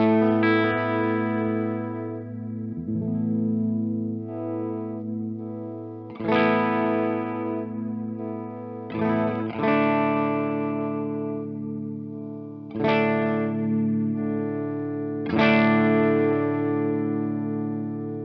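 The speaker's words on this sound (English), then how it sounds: "Let's get some reverb and let's hear the tone control on the bridge pickup." Harley Benton CST-24T P90 electric guitar on the bridge pickup with reverb, several strummed chords ringing out and decaying, about six strikes spaced a few seconds apart, each with a bright attack and a long sustain.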